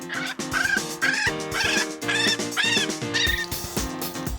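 A young gull gives repeated shrill, rising squeals in quick succession, loud and close, with a harsh rasping edge to each cry.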